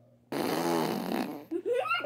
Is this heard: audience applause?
no